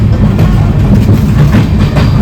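Shirdi Sai Nagar Express train running on the tracks, a loud continuous rumble with rhythmic clickety-clack heard from inside a moving carriage, no talking.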